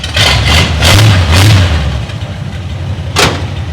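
1932 Ford engine revving as the throttle pedal is pressed, loud close-up bursts of rising rumble and exhaust blips, a few quick revs then a lower idle and one more short blip.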